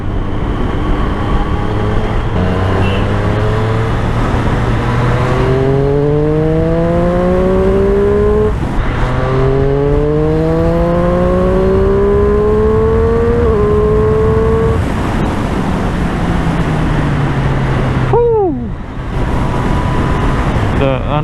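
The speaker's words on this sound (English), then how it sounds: "I must say this Royal Enfield really sounds good." A Royal Enfield Interceptor 650 motorcycle engine on a morning road ride, loud and close, with its pitch climbing repeatedly as it accelerates through the gears amid wind noise.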